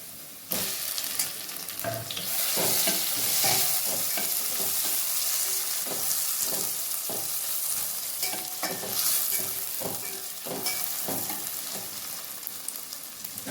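Chopped tomatoes frying with onions and curry leaves in a pan for egg fried rice, a steady sizzle broken by repeated scraping stirs of a spoon, loud and close, with no voice over it.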